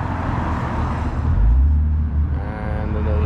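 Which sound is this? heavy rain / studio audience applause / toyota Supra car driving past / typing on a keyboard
toyota Supra car driving past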